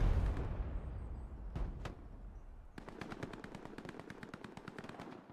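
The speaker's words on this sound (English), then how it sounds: "It's all going to be gunfire." Machine gun fire in the World War II shooter Hell Let Loose during a competitive match: a couple of isolated shots and a thud, then a long rapid automatic burst of evenly spaced reports, fairly loud and close.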